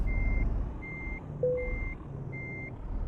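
A truck's reversing alarm beeps steadily while parking in Euro Truck Simulator, four evenly spaced tones over a low engine drone, with a brief lower chime partway through.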